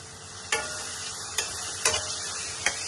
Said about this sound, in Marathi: आता आपण ही कोलंबी ह्यात घालणार आहोत। आता आपण हे परतून घेऊया।